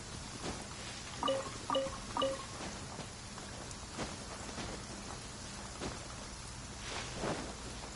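Rain falls in a downpour in the video game Genshin Impact, a faint continuous patter with scattered drops and a few soft tonal chimes in the first seconds.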